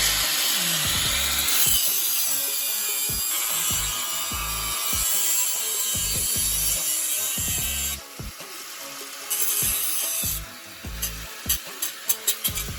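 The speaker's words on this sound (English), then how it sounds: "Tommy, why don't you just take the grinder and just take off this little lip here" An angle grinder cuts a small lip off the steel frame of a Razor dirt bike being fitted with a 79cc engine. It makes a loud, continuous abrasive grinding hiss that breaks into short bursts near the end.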